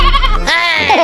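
A young goat bleats loudly and close up in a single wavering cry that fills the moment.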